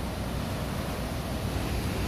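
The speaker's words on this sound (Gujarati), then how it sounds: "પાણી છોડ્યું છે અત્યારે" Water released from a dam rushes in a dense, constant roar heard from a roadside vantage point, steady and loud with no talk over it.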